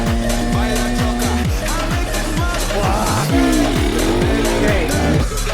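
An enduro motorcycle engine runs loud and close at low revs during a tour ride across Panama, its steady throb rising and falling through several short throttle blips.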